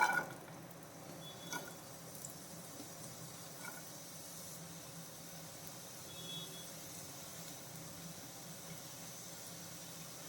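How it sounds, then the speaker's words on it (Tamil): Finely chopped onions sauté in a little oil in a pan for a capsicum paneer gravy, giving a steady, quiet sizzling hiss with a few faint clinks, no voices. "அதே பேனில் கொஞ்சம் எண்ணெய் சேர்த்து வெங்காயத்தை வதக்கிடலாம்."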